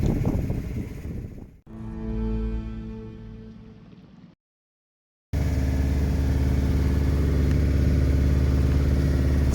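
A sailboat's engine runs steadily while the boat motors out of the marina channel: a low clattering drone that drops away briefly, cuts out for a moment of silence, then returns as a loud, constant rumble.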